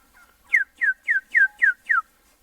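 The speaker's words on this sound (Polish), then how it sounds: "zobaczcie jak wyglądają indyki" Turkeys on a farm gobble in a rapid series of six quick, even, warbling calls, close and clear against a quiet background with no talking.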